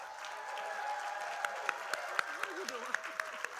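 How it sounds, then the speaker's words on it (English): An audience at a Norfolk State University event announcing Michael Vick as head football coach claps in a sparse, steady rhythm under a faint murmur of voices. "the clap was good"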